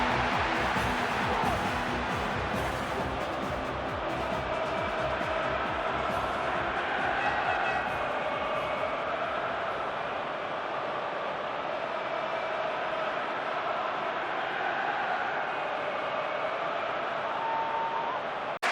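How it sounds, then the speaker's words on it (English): A large stadium crowd of supporters in the football video game PES 6 roars in a continuous, dense wash of noise at a group stage match, steady and loud for the whole stretch. "Supporters of both teams are creating a tremendous atmosphere in the stadium for this group stage match"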